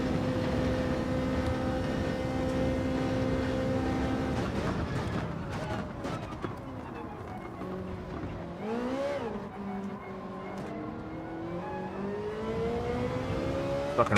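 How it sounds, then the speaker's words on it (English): Race car engine in Gran Turismo 7 during a Manufacturer's Cup online race, holding a steady high drone, then climbing and falling through revs with shifting pitch, loud and continuous with a voice speaking over it. "I'm gonna rev this shit out a little bit,"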